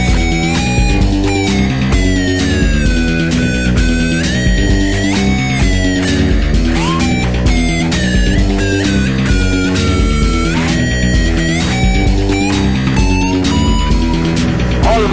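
A rock electric guitar solo plays loud and continuous, with sustained bending lead notes over a dense band backing of drums and rhythm instruments.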